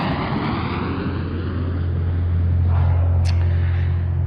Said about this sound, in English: Clear for takeoff, runway 19